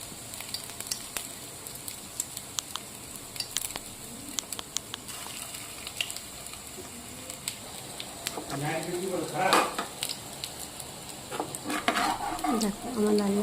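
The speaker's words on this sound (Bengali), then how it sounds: "যতক্ষণ না হালকা করে লাল লাল করে ভাজা হচ্ছে ততক্ষণ থাকবে" Soybean pakoras fry in hot mustard oil, a steady close sizzle with crackles, and louder bubbling bursts near the end.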